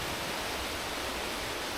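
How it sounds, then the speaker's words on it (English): Steady broadband rush of a waterfall in Glenariff Forest Park, a constant even roar filling the whole short stretch with no speech over it. "look at the waterfall."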